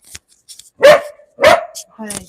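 Poodles indoors give two loud, close barks, with brief speech-like sounds and small noises around them.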